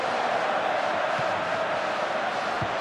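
A stadium crowd in the FIFA 13 football game roars steadily after a missed chance, a dense, loud, continuous wash of massed voices with no clear peaks.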